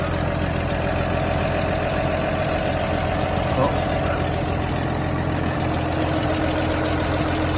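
An old car idles with its revs held slightly up after its first oil change in over 20 years, a loud, constant close engine drone with steady hum, continuing unbroken throughout.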